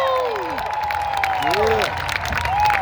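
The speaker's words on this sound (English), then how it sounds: "Can you take a moment and give a big cheer for the ancestors who walked 60 years ago?" Large concert crowd at the 60th Selma to Montgomery March commemoration cheering and applauding continuously, with a sustained roar of voices and clapping and some tonal whoops rising through it.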